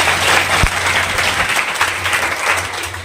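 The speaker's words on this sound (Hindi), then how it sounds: "एक बार जोरदार तालियों से स्वागत" Audience applause welcoming a poet at a poetry recitation event in Udaipur, a dense, steady wash of many hands clapping throughout, loud and close, with a low hum underneath.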